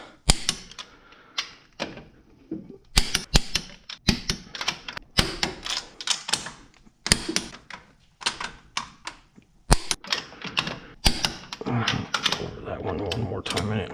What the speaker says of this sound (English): I'm just going to go over them and just make sure they all click.